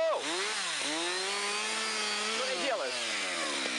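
A chainsaw cuts down half-century-old fir trees in a residential courtyard. The engine whines loudly and steadily, dipping and recovering in pitch as the blade bites into the wood.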